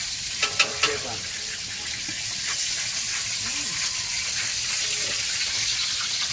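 Garlic fries in hot oil in a pan, a loud continuous sizzling hiss close by that opens with a few sharp crackles and pops, with faint voices in the background.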